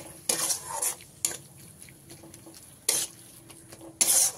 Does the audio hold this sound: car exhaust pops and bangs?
no